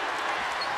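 A basketball arena crowd on its feet applauding after a three-point play, a dense, loud, steady wash of clapping and cheering with no break.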